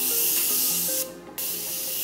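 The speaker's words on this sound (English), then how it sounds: "I'm gonna hit my face with a little bit of Morphe setting spray" Morphe setting spray mists onto a face in one short hissing burst, close and clear, over a steady background hum.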